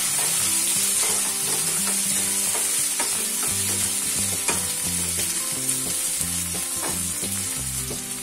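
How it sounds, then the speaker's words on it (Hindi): Potato and broccoli fry together in hot oil, giving a loud, steady close-up sizzle with bursts of crackling and stirring and no voices. "तेल हमारा हीट हो गया है, जिसमें हम आलू और ब्रोकली डाल देते हैं।"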